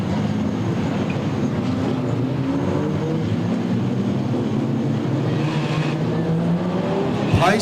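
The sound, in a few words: race cars at Lismore Speedway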